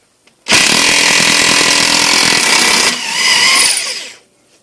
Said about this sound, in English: my recently acquired Craftsman cordless impact is definitely gonna get put to the test with this axle nut here.